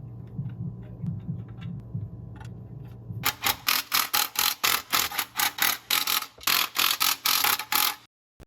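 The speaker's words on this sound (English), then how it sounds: "Torque the center bolts first, then do the others." A ratcheting wrench tightens new Nissan pressure plate bolts during a CD009 manual transmission swap on a JZX90 Mark II, starting after a low hum with about fourteen sharp, evenly spaced clicks, loud and close.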